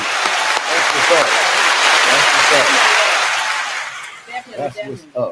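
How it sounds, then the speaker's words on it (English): An audience claps in a dense, steady round of applause for a woman, loud and sustained for about four seconds, then thinning into scattered claps with voices talking over the end. "Hey, give her applause, boy"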